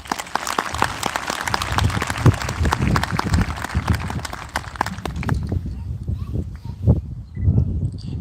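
Audience applause for a group of school board members at a school event, steady and fairly loud throughout, with crowd noise and some louder claps near the end.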